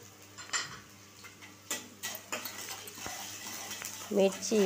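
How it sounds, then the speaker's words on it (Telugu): Onions fry in a kadai for egg fried rice, heard as a faint sizzle beneath clinks and scrapes of a metal spatula against the pan, with a louder burst of clattering toward the end. "ఆ కడాయిలోనే ఆనియన్స్ వేసుకోవాలి. ఆనియన్స్ కొంచెం ఫ్రై చేసుకోవాలి."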